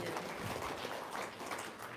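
Audience applause at an Indonesian religious talk in Loano, Purworejo, a steady crowd clapping that holds at an even level for the whole stretch, with no one speaking over it.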